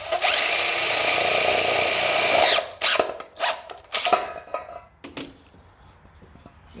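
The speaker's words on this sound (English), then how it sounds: "Drill me 3 holes in." A power drill boring holes into a metal dog-dish hubcap, a steady loud whine for about two and a half seconds, then stops followed by scattered clanks and rattles of the metal dish being handled.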